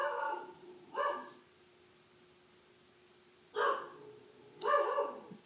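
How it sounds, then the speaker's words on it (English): A female dog barks four times in two pairs, close and sharp with quiet gaps between, a faint steady hum underneath. "Don't mind the dog. She barks at nothing"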